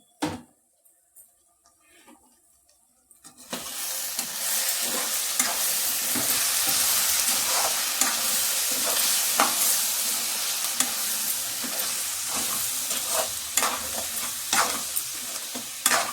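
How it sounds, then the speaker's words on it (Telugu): Chicken curry with green chilies and coriander is stirred in a hot pan, a near, loud crackling sizzle with scraping stirs that begins after a few seconds of near silence and continues steadily to the end. "ఇలా బాగా కలుపుకోవాలండి."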